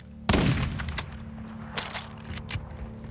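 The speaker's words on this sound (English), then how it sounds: "That's a shotgun." Shotgun gunfire in the video game Warzone: one loud close blast opens, followed by a rattle of further shots and distant gunfire spread through the rest.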